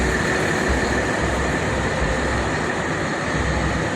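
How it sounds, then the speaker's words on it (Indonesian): A Hino RM 280 bus engine, a Rosalia Indah coach, idling outside at a pool, giving a steady smooth low rumble and broad hum that stays constant and fairly loud with no talking. "Suara mesin Hino RM 280 ini"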